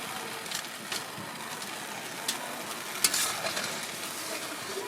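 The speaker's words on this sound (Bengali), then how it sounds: "আমার গ্রেভি রেডি হয়ে গেছে আমার গ্রেভি ফুটে উঠেছে" Gravy for chilli baby corn bubbling in a pan, a soft, steady simmering hiss with faint scattered pops and clicks, fairly quiet and without talk.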